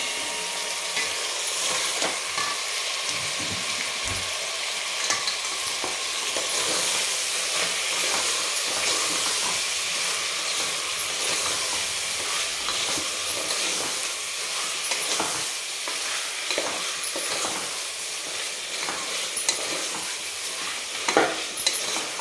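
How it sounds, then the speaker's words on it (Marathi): Mutton sautéed with rock salt in a pan gives a steady loud sizzle and hiss of frying, broken by scraping and stirring knocks throughout, with no talk. "चवीनुसार खडे मीठ टाकायचं आणि छान परतून घ्यायचं आहे आपल्याला"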